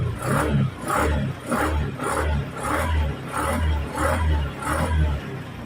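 A hard-starting motorcycle engine is kicked over repeatedly with the kickstarter, coughing in a steady rhythm of about seven strokes without fully catching, loud and close.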